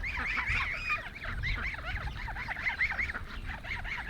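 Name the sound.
geese honking with Welsh Harlequin and Indian runner ducks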